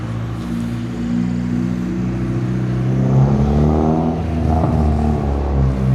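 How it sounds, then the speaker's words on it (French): Several JDM cars, including Civics, roll in at a night car meet, their engines rumbling and revving steadily close by with a deep, continuous drone and brief throttle swells. "Il y a encore d'autres voitures qui arrivent"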